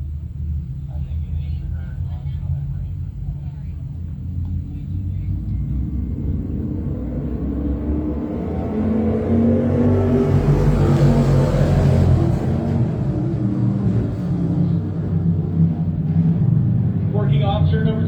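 Limited sportsman race cars at a speedway roar steadily and loudly as the field returns to green, engine rumble building and swelling toward the middle before staying strong to the end.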